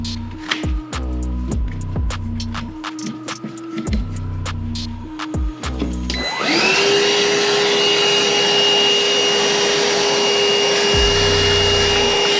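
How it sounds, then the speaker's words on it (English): A wet vac sucks up water during a plumbing callout on a Saniflo unit. Clattering knocks and thumps come first, then the vacuum motor starts and holds a loud, steady whine and roar through the rest of the clip. "keep your hoover ready and just suck up any bit of water or whatever"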